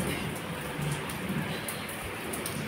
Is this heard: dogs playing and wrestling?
no